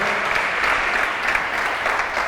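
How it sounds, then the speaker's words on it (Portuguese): Steady applause from a congregation fills a church service, dense and continuous clapping throughout with no break, loud and close. "Dá um aplauso, fique de pé."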